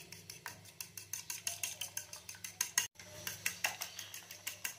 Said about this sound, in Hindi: अंडों को मिक्स कर लेंगे।